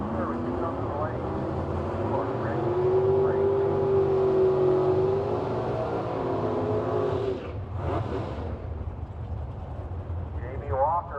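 Drag race cars at the Mopar Nationals launch down the strip, a loud sustained engine roar that rises in pitch and fades away, followed by more distant engine noise, with an announcer talking over it.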